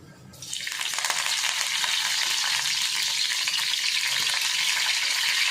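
Cumin seeds and curry leaves hit hot oil, likely in an iron pan, for a methi thecha, bursting into a loud, steady sizzle and crackle that holds close and continuous throughout with no talking.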